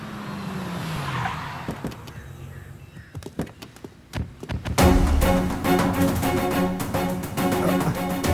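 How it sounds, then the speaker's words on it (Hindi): A car brakes hard with tires skidding and squealing, then comes to a stop, followed by a dense, loud burst of dramatic music from a 2016 film scene. "सर जरा गाड़ी रोकिए।"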